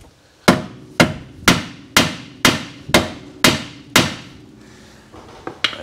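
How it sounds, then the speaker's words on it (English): A copper hammer strikes the rear wheel bearing shaft of an all-wheel-drive Mazda CX7 in eight sharp, evenly spaced metallic blows with ringing decay, followed by a couple of lighter taps, loud and close. "We'll try the copper hammer first because it's best practice."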